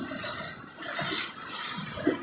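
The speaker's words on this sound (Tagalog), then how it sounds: "Kahit malakas ang alon" Strong ocean waves wash and churn in a steady broadband roar, rising and falling in loudness across the short stretch, with no voices over it.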